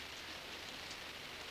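Steady rain drumming on a parked airplane, a dense even hiss of drops spread across the whole moment, constant and fairly loud with no voices.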